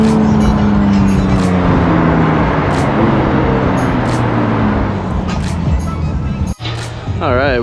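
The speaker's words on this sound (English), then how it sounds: "so now we got both cars going" A Porsche 911 GT3 and a Mercedes C63 drive together, a loud, steady engine drone with a falling tone as the cars move, a brief dip near the end, then a rising whine.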